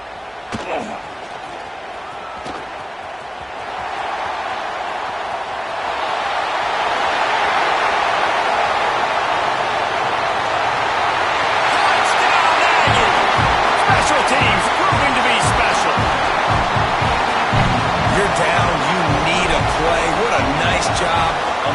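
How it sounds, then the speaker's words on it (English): A home crowd at a Texas A&M versus USC college football game roars and swells into a loud, sustained wash of noise, with a commentator talking over it. "you could hear this home crowd going bananas"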